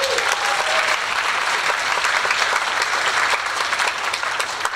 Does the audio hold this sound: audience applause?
yes